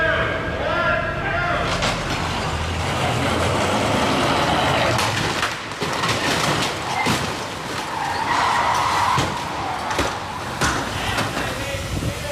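Stunt cars on the Transformers 5 film set skid and rumble with loud engines, bursts of tire noise and sharp impacts scattered over several seconds, close and busy, with voices talking over the action.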